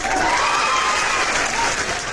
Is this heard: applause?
yes